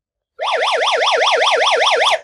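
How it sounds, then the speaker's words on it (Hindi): A loud electronic siren from a phone screen-lock app wails in a rapid, steady up-and-down warble for about two seconds, close and alone, then cuts off. "जोर से जो है यहाँ पर सायरन की आवाज़ सुनाई देने लगेंगे"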